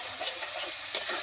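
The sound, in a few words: stirring turmeric and salt into frying masala in pan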